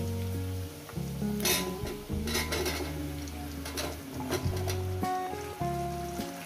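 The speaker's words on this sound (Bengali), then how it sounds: "ঝিঙেটাকে দিয়ে আমি আরো 4-5 মিনিট ভাজবো" Ridge gourd frying in a pan along with fish curry ingredients, salt and turmeric, giving a steady sizzle with scraping and stirring clatter, accompanied by a continuous tonal hum.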